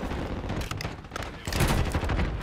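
Rapid bursts of automatic gunfire from an SVA rifle set up like an AK in Warzone, sharp cracks in quick succession growing louder toward the end, with no one talking.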